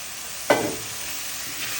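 A spoon stirs chopped tomato into frying beef, eggplant and potato in a pot, giving one sudden scrape and sizzle burst before a low steady frying hiss carries on alone.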